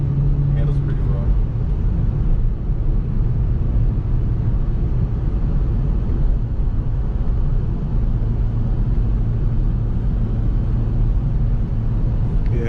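Steady interior drone of a Lexus IS300 with a five-speed manual gearbox being driven, a continuous low engine and road rumble that stays even throughout, with people talking over it.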